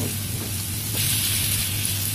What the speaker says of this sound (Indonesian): Selanjutnya tumiskan 2 siung bawang putih cincang dengan 2 sendok makan margarin.